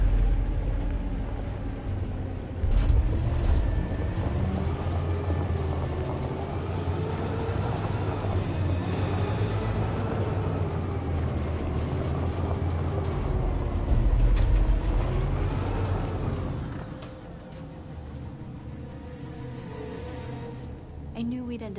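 A big truck in the video game Detroit: Become Human drives with a low, continuous engine rumble and mechanical clatter that swells and then drops away near the end, with a person talking over it.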